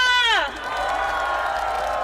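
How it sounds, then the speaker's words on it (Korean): Crowd at an election-day campaign rally cheering and clapping, a dense roar of voices that opens with a falling whoop, then settles into a steady, loud cheer. "해병대 출신 김규현 변호사와 해병대에게 큰 박수 보내주시기 바랍니다"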